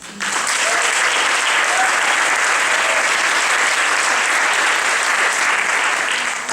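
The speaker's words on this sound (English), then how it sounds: "they deserve a round of applause for that" Loud, sustained applause from a large theatre audience after a teen stage show fills the whole stretch, steady and dense without a break.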